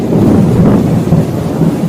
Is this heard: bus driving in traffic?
no